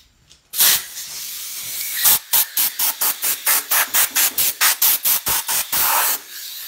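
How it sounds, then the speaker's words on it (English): Compressed air blasts dust off a wood backer board for a scroll-saw sloth piece: a longer hiss, then a rapid series of about a dozen short, loud, evenly spaced bursts, ending in one sustained blast, close up with no talk. "You can use an air compressor and just blow it off"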